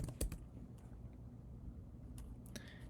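Keystrokes on a computer keyboard while using a command-line chat tool, a few faint sharp clicks at the start and end with quiet room noise between.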